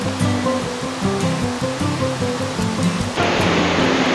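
Rushing water from a stream and the Mohini waterfall at Kulekhani, Markhu pours as a loud, continuous roar, with tonal, music-like notes layered over it.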